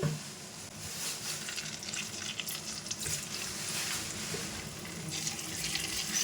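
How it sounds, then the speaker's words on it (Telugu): Steamed amla (Indian gooseberry) pieces sizzle in hot oil with asafoetida for a pickle, a soft continuous crackling fry with occasional stirring scrapes, fairly quiet and close. "ఇంగువ యాడ్ చేశాక ఇప్పుడు మనం స్టీమ్ చేసుకున్న ఉసిరికాయ పీసెస్ యాడ్ చేసుకోండి."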